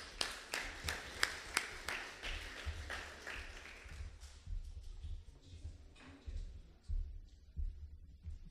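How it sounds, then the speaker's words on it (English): A church congregation at a Sunday service claps in an even, rhythmic beat for several seconds, then the clapping thins out into a few scattered claps and quiet room noise. "Can we just give Abe a big round of applause?"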